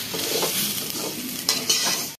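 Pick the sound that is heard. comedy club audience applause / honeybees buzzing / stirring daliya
stirring daliya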